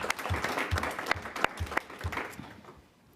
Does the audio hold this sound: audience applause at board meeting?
yes